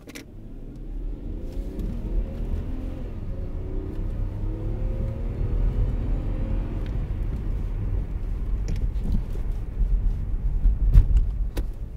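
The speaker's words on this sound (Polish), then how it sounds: "Spróbujemy ruszyć z pierwszego biegu. Zobaczymy, jak auto brzmi i jak się zbiera." A car pulls away in first gear, its engine rumbling low and rising steadily in pitch as it accelerates, close and continuous with a faint whir underneath.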